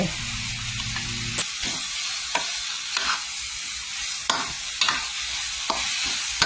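Spring onion and coriander stirred into a frying dish in a home kitchen, a steady soft sizzle with occasional scrape and clack of the utensil against the pan, close and alone.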